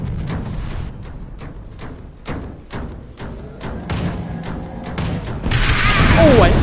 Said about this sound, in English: What a gigantic explosion.